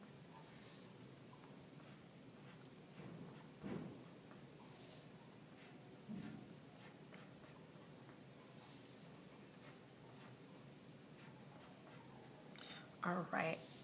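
A pen draws simple lines on paper for a mandala design, with faint scratchy strokes and occasional louder scrapes as the sheet is turned, close and quiet. Soft breathing and a brief voice are heard as well.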